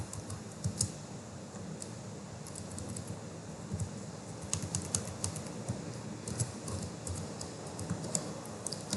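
Keys clatter steadily on a computer keyboard as Python code is typed, a continuous run of close, fast clicks with occasional louder taps over faint room noise.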